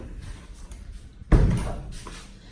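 A door swings shut with one firm, close thud at a townhouse kitchen extension. A short muffled rumble follows over quiet room noise.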